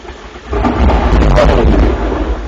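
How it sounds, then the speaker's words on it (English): Very close thunder from a thunderstorm rolls in as one loud, low, rumbling burst that swells and then fades over a couple of seconds. "I'm having a thunderstorm."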